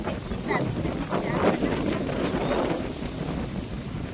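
Outdoor wind buffets the microphone in a village setting, a continuous rushing roar with gentle swells and no speech over it.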